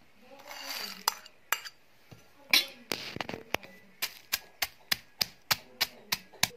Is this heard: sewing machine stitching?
no